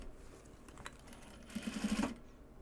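A sewing machine stitches a project bag of Japanese fabric in one short burst of rapid mechanical whirring that rises toward the end. It sits close and moderately loud against a quiet room.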